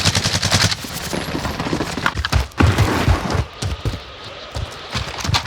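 Rapid automatic gunfire in the Warzone video game from an AR, with dense overlapping bursts and heavy thumps, continuous and close.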